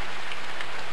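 Rain falling: a steady, dense hiss of raindrops, continuous and even at a moderate level, with no talk.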